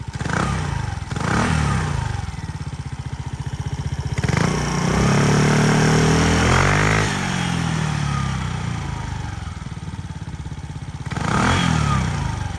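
A Suzuki Address V125 S scooter engine idles with a steady low putter, close and fairly loud, rising briefly in a short rev midway before settling back, with light mechanical clatter.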